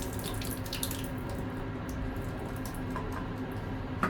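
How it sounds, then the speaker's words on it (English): Water is poured out of a film developing tank in a black-and-white photo lab, giving a continuous rushing, splashing flow at moderate volume, as from a sink tap. "you pour that water out"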